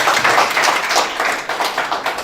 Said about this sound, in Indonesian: Tepuk tangan yang untuk panitia.